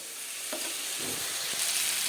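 Potatoes fry quietly in oil with turmeric and spices, a soft steady sizzle with a few faint stirring scrapes against the pan.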